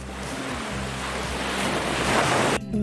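Ocean waves and a boat moving on the water make a steady, broad wash of surf and wind that builds slightly louder toward the end.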